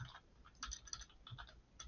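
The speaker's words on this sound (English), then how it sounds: "Oh my goodness, typing." Fingers typing on a computer keyboard, producing quick clusters of light clicking keystrokes in irregular bursts, fairly quiet and close with no talking.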